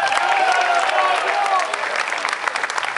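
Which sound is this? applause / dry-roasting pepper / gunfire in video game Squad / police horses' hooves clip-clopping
applause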